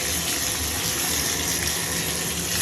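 Tap water gushes steadily into a bathtub during a rental move-out inspection, a loud, constant rushing flow with no pauses.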